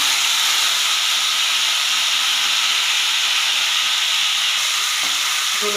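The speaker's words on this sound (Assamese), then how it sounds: "গোটা জিৰা কেইটামান দি দিলোঁ" Whole cumin seeds crackle in hot oil in a pan, a loud, close, continuous hissing sizzle that holds steady from start to end with no voices.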